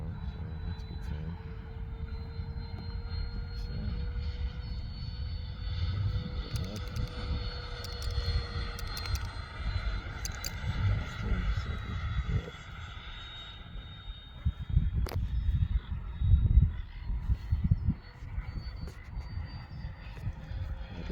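Radio-controlled F-4 Phantom model jet in flight, a steady whining turbine tone with shifting pitch as it passes, mid-distance, rising to a louder rumble near the end, with occasional faint talk underneath.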